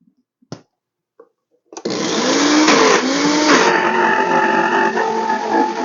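A Vitamix blender roars up to full speed blending cooked chickpeas into hummus, a loud steady motor whine after a few short knocks, its pitch sliding briefly as the thick mix churns.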